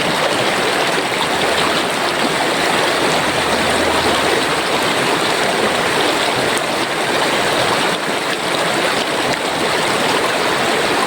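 River water rushes continuously in a loud, steady roar, close by, with no breaks and no talking, at Daraitan, Tanay, Rizal, Philippines.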